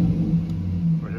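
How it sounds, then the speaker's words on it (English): A Chevrolet Silverado truck engine revs as the gas pedal is pressed, a loud steady low rumble close by that rises briefly near the end. "If I hit the gas, it sounds normal."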